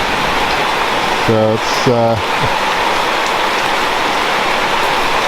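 Steady, dense hiss of heavy tropical rain during the wet season, loud and unbroken, with a brief spoken phrase near the start.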